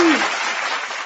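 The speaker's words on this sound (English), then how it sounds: "Let's just get a little applause for that." Studio audience applause at a talk show, a dense wash of clapping that holds steady at moderate loudness for about a second after a brief voice at the start.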